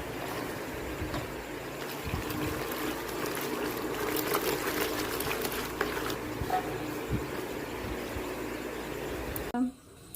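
Running water splashes steadily over freshly cut food being rinsed in a kitchen, a continuous trickling wash for about ten seconds that cuts off abruptly near the end.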